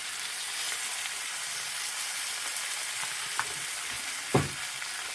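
Oatmeal-coated fish frying in a pan, a steady close sizzle with crackling throughout and a couple of sharper pops or stirring knocks near the end.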